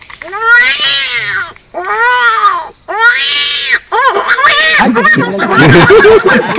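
A human voice mimics cats yowling and fighting: a series of long, rising and falling wails, then faster overlapping squalls, loud and close.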